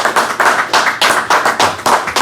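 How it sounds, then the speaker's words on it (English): Audience clapping welcomes a guest to a music interview set in New Jersey, heard as a short run of crisp, evenly spaced hand claps at close range with no talking over it. "Let's get a hand of applause."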